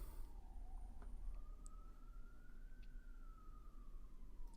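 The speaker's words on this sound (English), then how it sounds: "There's a lot of sirens." A single siren wails outside, its pitch sliding slowly up and down, heard at a distance over steady low traffic rumble.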